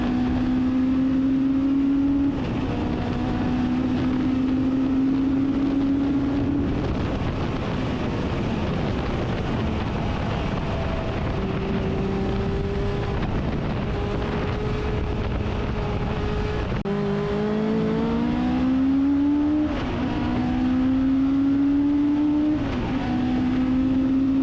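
A Legend race car laps a circuit, its engine droning steadily and loud, revs climbing and dropping through repeated gear shifts, with wind buffeting the microphone throughout.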